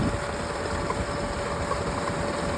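A tractor engine runs steadily on a farm, giving a continuous low, rumbling drone with an even idle-like throb. It is close and moderately loud, with no voices.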